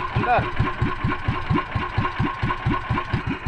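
A small engine catches and settles into a steady, rapid idle with regular pulsing chugs, close and loud, running alone in an outdoor setting.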